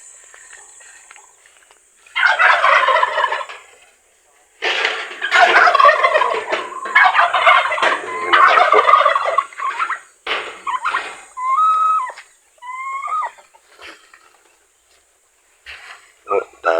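Turkeys on a small farm let out several loud, rapid gobbling bursts close by, followed by shorter calls and chirps, with brief pauses between outbursts.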